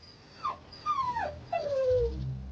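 A dog whimpers from a crack in the rocks: three high, falling whines in quick succession, fairly close and clear, with a low rumble at the end and no talking.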